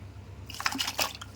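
Sun-dried mango pieces for magaya pickle being stirred into brine, a few soft wet squishes and drips close by within a quiet moment.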